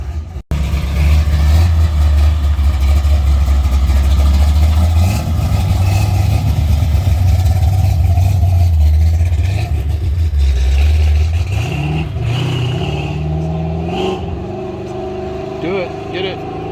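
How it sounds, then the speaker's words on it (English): A car engine rumbles loudly up close at a lakeside fair car show, holding a deep idle before rising in pitch as it revs, with people talking in the background. "Sounds like a healthy engine."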